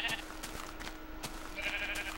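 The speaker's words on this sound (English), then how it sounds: "Ah, you nosy sheep." Sheep in the Minecraft video game bleat in two short, nasal calls at the start and end, fairly clear over a steady game background hum.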